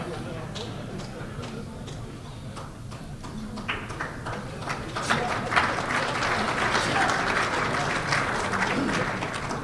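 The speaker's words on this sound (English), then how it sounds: "That's the first time anybody's ever clapped for me." Audience applause at a baseball hall of fame induction, a steady crowd clapping that swells louder midway and continues throughout.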